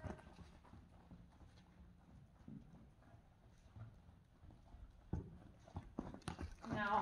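A horse being driven forward during groundwork circling, its hooves clip-clopping at a steady walk on the ground, fairly close, with a person talking over the footfalls and some louder handling noise near the end.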